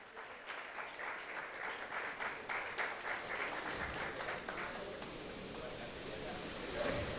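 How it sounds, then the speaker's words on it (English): Audience applause at a seminar session on AI and digital technologies in plant breeding, a steady wash of many hands clapping throughout, fairly even in loudness and building slightly toward the end. "Mr. Deepak Pari, can we please give him a huge round of applause?"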